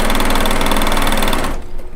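A sewing machine stitches pieced quilt blocks for a log cabin quilt top, a fast steady mechanical rattle running close and loud before it stops abruptly near the end.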